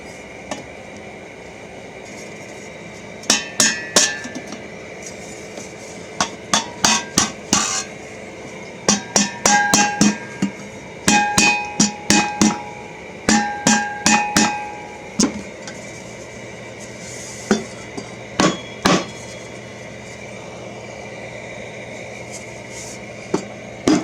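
Sharp metallic hammer strikes denting a fire extinguisher shell being made into a lawn mower muffler, coming in irregular clusters of close, ringing blows separated by short pauses.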